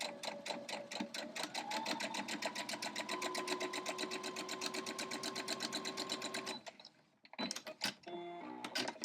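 A sewing machine stitches fabric directly onto a foundation in a quilting project, with a steady, rapid mechanical chatter running for about six seconds before it stops, followed by a few handling clicks and rustles.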